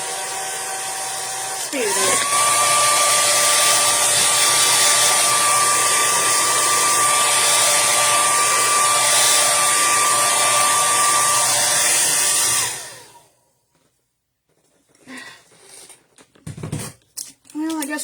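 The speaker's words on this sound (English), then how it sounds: "Ah, where's my dryer?" A hair dryer blows loud and steady for about eleven seconds while drying a painted mason jar Christmas ornament, then cuts off abruptly, followed by quiet handling noises and a brief spoken remark.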